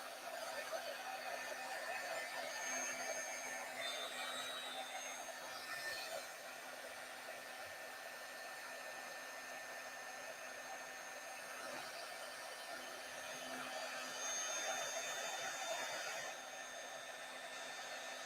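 A heat tool blows a steady, even hot-air whir over embossing powder on stamped paper, running continuously for the whole stretch at a fairly quiet, close level with no speech.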